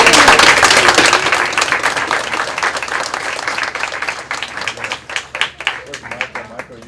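Crowd applause at a Seattle mayoral event, loud at first and then thinning to scattered claps, with some speech mixed in.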